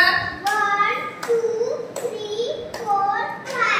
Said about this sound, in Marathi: तर 5 टाळ्या वाजव बरं